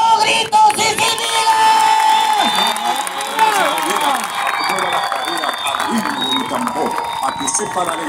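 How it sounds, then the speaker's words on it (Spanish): A lively crowd at a festive show in Mar del Plata claps, cheers and shouts together, with children's high voices rising over a continuous roar that stays loud and close. "¡Aplauso, gritos y gritos!"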